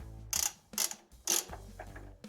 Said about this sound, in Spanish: Para quitarlo es una llave de Torx de 40